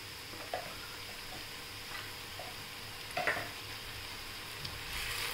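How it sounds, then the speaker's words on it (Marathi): A paste of tomato, ginger, garlic and green chili sautés in a pan for a rajma masala, a soft, fairly quiet steady sizzle broken by a few light stirring clinks and scrapes, no voices. "ते परतवून घेऊया आपण चांगलं"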